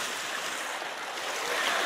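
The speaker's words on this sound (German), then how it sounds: "Das Wasser wird jetzt hier ein bisschen aktiv." Water laps and churns with small waves in an outdoor setting in Mannheim, a steady broadband wash that continues throughout and gradually swells slightly louder toward the end, with no voices.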